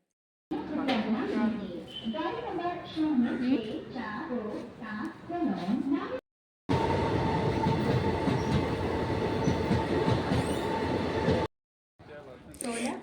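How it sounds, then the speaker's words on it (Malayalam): Trains at Kochuveli railway station in Kerala. A person talks at first, then a loud, close rail rumble takes over with a sustained metallic whine for several seconds before cutting off. "യൂബർ ടാക്സി വിളിച്ച് കൊച്ചുവേളി റെയിൽവേ സ്റ്റേഷനിൽ എത്തി"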